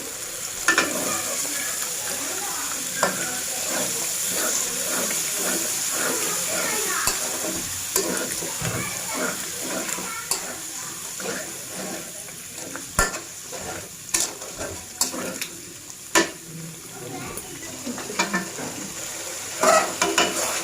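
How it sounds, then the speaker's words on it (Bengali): A spiced paste with yogurt sizzles and fries in a pan while being stirred steadily, with scraping and stirring clatter throughout and a light continuous sizzle. "তো মশলাটা ভালো করে কষিয়ে নিব আমি"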